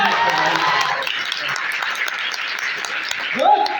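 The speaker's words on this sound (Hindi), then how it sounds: "मेरी अपलाइन के लिए ताली बजा रहे हो" An audience claps during a motivational talk, steady dense applause throughout with a voice speaking over it near the end.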